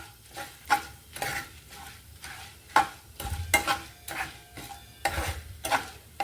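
Tempering spices frying in oil for a taro curry, stirred with regular scraping strokes roughly every half second over a crackling sizzle, close up.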